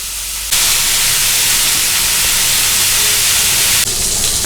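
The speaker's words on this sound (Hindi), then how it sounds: "अब हमने इसको लोअर मीडियम फ्लेम पर अच्छे से पकाना है कि दोनों तरफ कलर भी आ जाए" Chicken grilling over a low-medium flame for a smoky grilled chicken burger gives off a loud, steady sizzling hiss that runs unbroken for several seconds, then eases slightly near the end.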